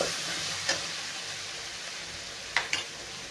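Spices and turmeric sautéing in a pan, giving a constant bright hissing sizzle with a couple of short utensil scrapes near the end, close and without voices.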